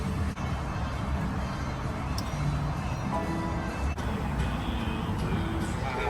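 A BMW M240i drives along a Florida road, giving a steady close rumble of engine and tyre noise with road roar throughout and no clear breaks.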